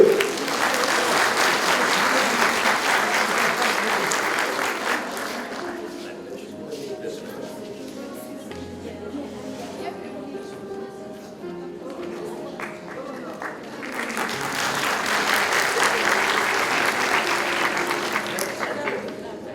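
An audience at a prize-giving and closing ceremony applauds two honorees, a broad burst of clapping that fades into a quieter stretch with talk and music, then swells again into loud applause.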